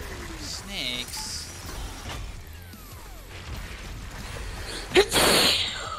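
A single sharp sneeze blasts into a close microphone near the end of a live stream, loud and abrupt, following scattered voices and background chatter.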